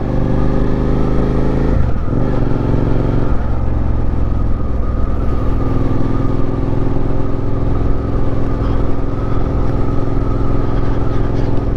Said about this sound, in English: One thing I like about these exhausts I have here, Delkevic 14-inch slip-on exhaust, is that it's not too loud.